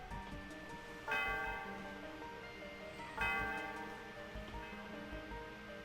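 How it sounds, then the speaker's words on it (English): A bell rung twice in Pokémon Black, each strike bright and ringing with a long shimmering decay that fades before the next, alone without speech. "The sound of the bell reverberates through the area."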